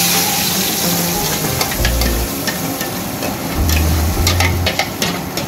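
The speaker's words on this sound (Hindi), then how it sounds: "ये ग्रेवी हमें चलाते रहनी है हमेशा, जब तक ढंग से ये पक नहीं जाती ग्रेवी" Gravy for malai kofta stirred and frying in a pan with a little oil, a continuous loud sizzle with scraping spoon strokes and occasional low knocks against the pan.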